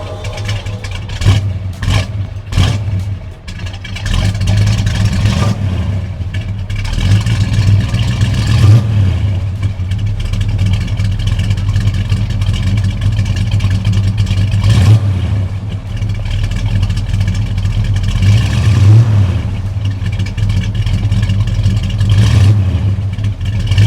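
A 1971 Plymouth Duster 340 V8 cranks and fires with a clattering start, then settles into a loud, close idle punctuated by several deep revs blipped at intervals, with no talking.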